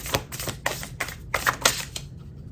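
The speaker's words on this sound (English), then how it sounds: "I feel like I need to mix these around a little before I shuffle them" A deck of tarot cards is mixed and shuffled by hand, producing a quick series of papery riffling bursts, close and crisp, that stop abruptly near the end.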